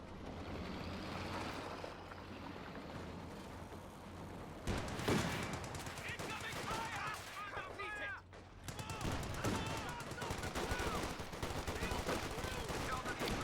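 Cavalry rifles firing in Company of Heroes 2, a rapid crackle of gunshots and bursts over a steady battlefield rumble of vehicles, with commentators talking over the whole stretch.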